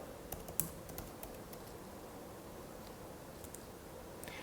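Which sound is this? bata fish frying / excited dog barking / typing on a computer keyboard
typing on a computer keyboard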